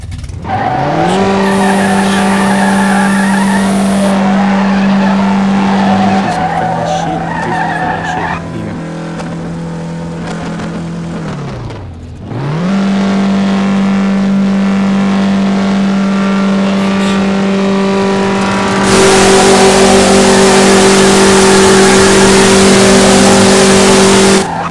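Drag racing car in a no-limit event, roughly 30,000 horsepower, roaring loudly at close range with a sustained high-revving engine drone, a brief dip and sweep in pitch midway, then hard renewed acceleration with tire noise.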